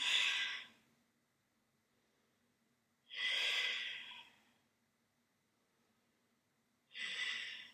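Three slow, soft breaths at regular intervals during a yoga half boat pose, each a breathy exhale of about a second separated by quiet pauses.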